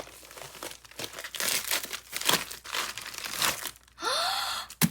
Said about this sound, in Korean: 정체 불명의 박스들 한번 뜯어볼게요